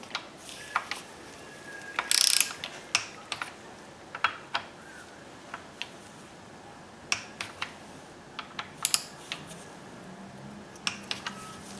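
A torque wrench tightened to 10 Nm on a 2013 Nissan Sentra gives sharp, close ratchet clicks, spaced irregularly at first and then bunched into quicker bursts over a quiet background.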